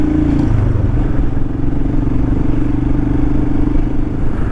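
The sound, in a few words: motorcycles at a dam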